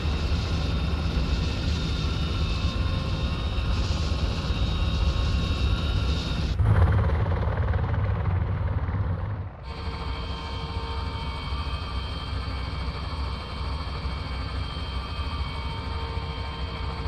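A helicopter in a military video game set during Operation Licorne in Ivory Coast drones loudly and steadily as it comes in to land, its heavy rotor and engine noise briefly dipping partway through before resuming.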